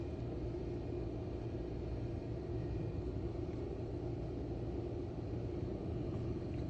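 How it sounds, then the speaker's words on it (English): Thunder rumbles in a heavy storm, a loud steady low roar that mixes with the engine of a car pulling away through a parking lot, continuous and without pauses. "The Thunder is synced with a car taking off."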